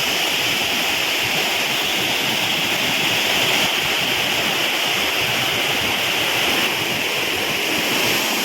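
Steady, dense roar of falling water close by at Njandirukki Waterfalls, Velliyamattom, Kerala, broadband and unbroken throughout with no voices.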